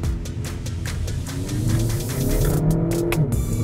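A Skoda Octavia RS engine revs up and pulls hard under manual paddle shifting, with quick breaks in the acceleration as gears shift, loud and close throughout.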